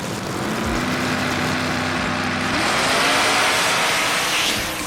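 A Chevrolet Chevelle and a yellow Camaro race side by side in a no-prep points race, engines roaring loud and close as they accelerate hard down the strip, the pitch climbing and holding in a sustained drone.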